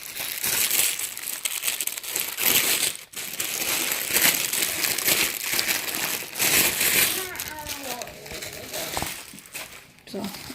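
White and blue tissue paper crinkles and rustles loudly up close while an order is packed, continuous crumpling bursts with a brief pause, a voice speaking briefly near the end.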